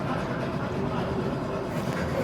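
A model train rumbles continuously along the track at a model railroad museum, a steady close mechanical roll with no distinct breaks.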